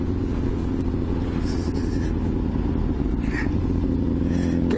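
A Kawasaki ZXR 750 H1 motorcycle roars at full throttle on gravel, a loud, steady, close engine drone with dense low rumble and no clear breaks.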